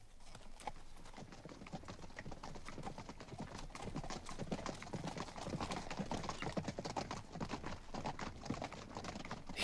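Several horses gallop away across open ground in a 1965 Western film, a dense clattering clip-clop of hooves that builds steadily louder over the whole stretch with no talk.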